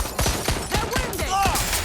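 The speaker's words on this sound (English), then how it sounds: "Shots fired!" Rapid gunfire in the video game Watch Dogs: Legion, a burst of sharp shots in quick succession with ricochet-like whines, loud and close amid game noise.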